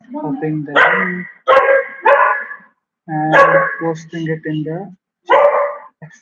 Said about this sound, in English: We have a dog here, and he is very active, so you might hear him barking.